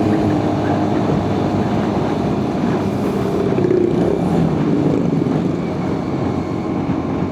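A vehicle's loud exhaust drones steadily during an uphill drive on a trip home from Bromo, a continuous low, rumbling roar close by with no break over several seconds.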